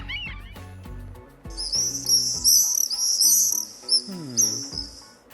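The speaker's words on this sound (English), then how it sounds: "If this bird flies low, it means it's going to rain. Yes, a swallow." Swallow calls: rapid, high, thin twittering chirps in repeated bursts, fairly loud and close, over steady background music.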